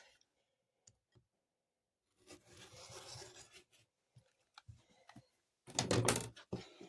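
Quilting fabric cut on the diagonal with a rotary cutter gives two rasping, rubbing strokes at close range, with scattered small clicks between them and otherwise quiet.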